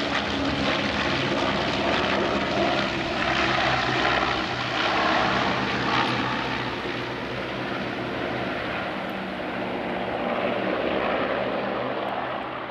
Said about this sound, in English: water bombers doing the fighting of the fire